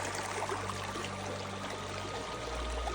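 A mountain stream in the Dolly Sods Wilderness flows in a steady, close broadband rush of running water, with a deeper low rumble swelling near the end and no voices.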